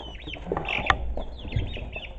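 Chickens on a small farm cluck close by in a few short, uneven bursts. There are sharp little pecking taps, and one brief louder squawk stands out over a soft background.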